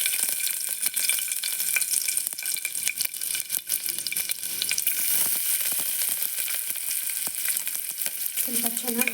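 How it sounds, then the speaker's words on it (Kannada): Onion and garlic fry in ghee with cinnamon, clove and cardamom for a vegetable pulao for babies, a steady close hiss and sizzle throughout with occasional stirring scrapes and no speech. "ತುಪ್ಪದಲ್ಲಿ ಚೆನ್ನಾಗಿ ಫ್ರೈ ಮಾಡ್ಕೊಳ್ಳಿ, ಅದು ಫ್ಲೇವರು ಬರುತ್ತೆ."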